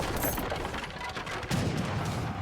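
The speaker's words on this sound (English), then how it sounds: "Finally, the first shot's fired." Gunfire opens a battle in a strategy video game: a dense scatter of sharp game shots and booms that keeps crackling steadily, moderately loud, with no talk.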